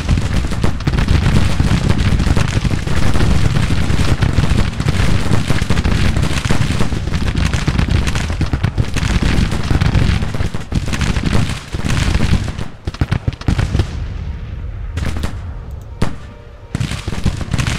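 Dense Civil War musket volleys and crackling rifle fire from the Grand Tactician video game roar almost continuously, loud and overlapping, thinning into scattered sharp shots near the end.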